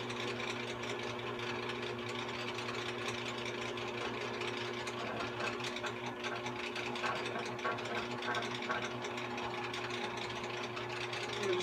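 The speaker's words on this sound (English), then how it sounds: "Just watch out when you're drilling." A low-speed drill runs steadily while boring through a part during a rocker setup on a 409 engine build, a faint continuous mechanical whir and hum holding without pause at low volume.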